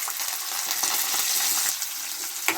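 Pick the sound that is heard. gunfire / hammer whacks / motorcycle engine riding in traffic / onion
onion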